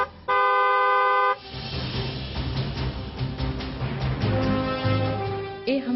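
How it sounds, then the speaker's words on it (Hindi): A single car horn blast rings out for about a second, loud and steady, then gives way to a busy mix of background noise. "जानकारी वाला हॉर्न बजाना जरूरी है"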